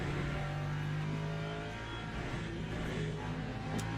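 A hypercar engine in the racing sim Le Mans Ultimate, droning steadily at close range with a sustained tone and slight pitch shifts as the car holds speed.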